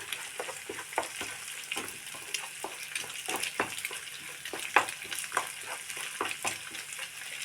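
Egg stirred and broken up with okra in a hot pan for a Kerala okra thoran: steady frying sizzle with repeated scraping and tapping strokes of a spatula, close up.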